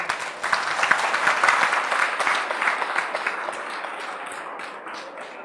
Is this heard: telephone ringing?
no